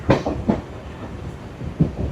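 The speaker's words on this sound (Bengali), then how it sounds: "চলো, আমাদের ট্রেন ফাইনালি ঢুকছে নৈহাটি জংশন রেলওয়ে স্টেশনে।" A local train pulls into Naihati Junction station with heavy rhythmic clatter of wheels over rail joints, a few sharp knocks standing out above the steady rumble, heard from close by with no voices.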